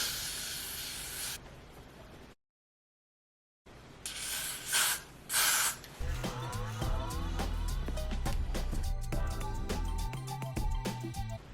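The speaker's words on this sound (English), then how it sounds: "Now just spray." A short hiss of aerosol spray onto wig lace, a moment of silence, two more quick spray bursts, then music playing steadily.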